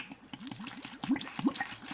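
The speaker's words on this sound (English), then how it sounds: "You'll add enough water just to come to the top of the stone." Water poured into a pot over a stone to make hydrosol, a bubbling, gurgling pour heard close up, uneven and splashy, with no talking.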